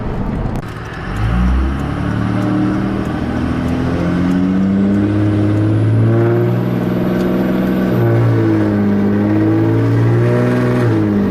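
A Cummins diesel pickup truck accelerates hard in gear, its engine note climbing steadily and loudly from inside the cab with a whining rise throughout.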